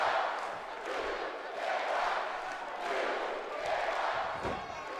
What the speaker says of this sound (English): Listen to this place. Hammerstein Ballroom is certainly cheering someone on.